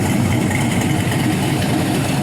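A 5.3L LS V8 with a big cam, new head gaskets and a new oil pump idles steadily and close up, its low, lumpy rumble continuous throughout with no voices.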